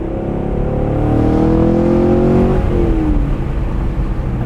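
A 6.2 liter V8 in a 2017 Chevrolet Camaro 2SS manual convertible revs loud and close in open air, its deep drone rising in pitch and then easing off.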